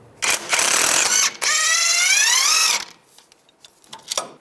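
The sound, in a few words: ratchet with 24mm socket removing nut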